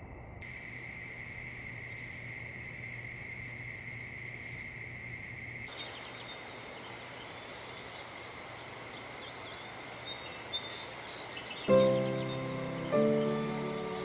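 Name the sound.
crickets chirping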